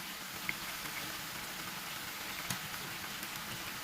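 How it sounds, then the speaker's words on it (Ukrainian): Sliced mushrooms frying over medium heat in a pan give off a quiet, continuous sizzle with a few soft pops, and no one speaks over it. "нехай на середньому вогні смажаться до золотистого кольору"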